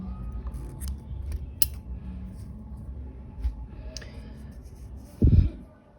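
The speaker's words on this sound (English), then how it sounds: "I'm going to chain one and then cut the yarn" Scissors snip through crochet yarn once near the end, a short sharp cut over faint room noise, with a few light clicks of handling earlier.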